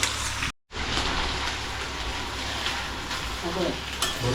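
Potatoes fry in hot oil with a steady, broad sizzle, and the sound drops out briefly near the start. Stirring noises and faint background voices sit under it.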